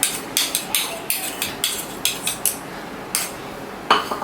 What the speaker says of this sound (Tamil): நான் முட்டை அடித்து வச்சுருக்கோம் இல்லைங்களா, அதை இந்த மாவில் ஊற்றிக்கிறேன்